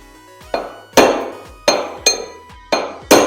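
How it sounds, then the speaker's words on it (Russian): A bearing is hammered into a washing machine drum: six heavy metallic strikes with ringing, clinking decay, spaced about half a second apart, close and loud with no talk. "То есть бьете, вы почувствуете, когда подшипник сядет полностью, будет такой другой звук"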